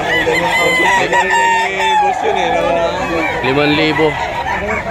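Roosters crow repeatedly, several birds overlapping with clucking fowl, at a crowded pre-dawn poultry and pet market in Bocaue, Bulacan, amid a steady babble of voices and hubbub.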